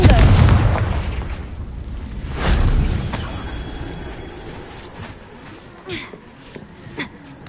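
A Confringo fire blast spell in Hogwarts Legacy bursts with a heavy low boom that rolls off, followed by a second rumbling blast and a few fainter pops and crackles as it fades.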